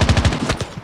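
Rapid bursts of automatic gunfire from Call of Duty Mobile, a fast rhythmic string of punchy shots that loosens into scattered reports toward the end, loud and close.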